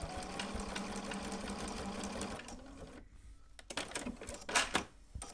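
A Bernina sewing machine stitches steadily for about two and a half seconds, a fast close mechanical whirr, then stops and leaves softer handling clicks and rustles.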